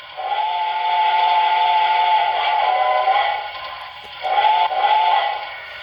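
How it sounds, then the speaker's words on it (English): Steam whistle of a BLI Reading T1 model locomotive, sounding two long, loud, close blasts with a short break between them and nothing else audible. "Here's the whistle."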